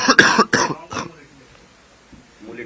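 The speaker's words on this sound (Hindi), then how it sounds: "खांसी बहुत है, तबीयत खराब है" A few loud, harsh coughs in quick succession from a sick man, then quieter rustling and a faint voice near the end.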